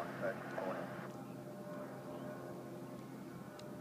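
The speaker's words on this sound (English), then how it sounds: "there's a plane going over here right now." A small CRJ regional jet passing overhead near JFK airport, a steady broad roar that fades gradually from a louder opening, heard outdoors at moderate distance.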